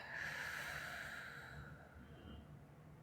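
Slow, steady breathing during a guided meditation exercise, a soft continuous airy hiss lasting the whole stretch, close and quiet with no talking.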